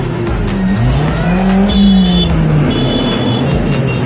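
A white Toyota Rush revs its engine several times in a road standoff with a minibus taxi, rising and falling moans of a loud, close engine over steady traffic noise.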